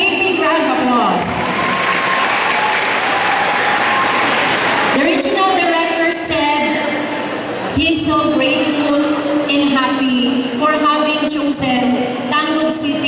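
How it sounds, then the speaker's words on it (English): Audience applause at a senior high school expo and job fair fills the opening seconds, dense and steady, then gives way to an amplified voice speaking over a hall. "Shall we give everybody a big, big round of applause?"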